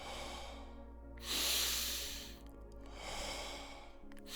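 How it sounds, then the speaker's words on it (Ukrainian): Deep, forceful breaths in the Wim Hof breathing method, a long loud rushing inhale followed by a softer exhale and another inhale, close to the microphone with no talking. "Вдих, видих."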